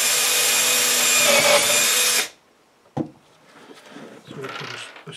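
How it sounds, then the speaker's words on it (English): A power drill drives screws into an air distribution duct with a loud, steady whir for about two seconds, then stops abruptly. A sharp knock and quieter handling noises follow. "I put two screws in from this side"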